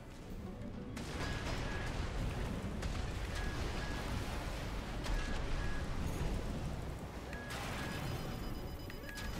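Active homing missiles explode in the Armored Core 6 mech game: a dense, rumbling barrage of booms and blasts that runs continuously, loud and close, with faint electronic beeps over it and no talk.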